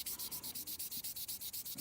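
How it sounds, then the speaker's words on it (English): Rapid, even back-and-forth rubbing strokes of a sanding sponge on a 1:72 scale Airfix Vampire plastic model, about seven per second, close up and alone. "just gonna take the sanding sponge"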